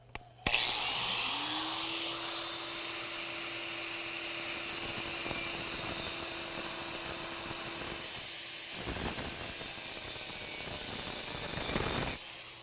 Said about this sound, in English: going to chase me with the vacuum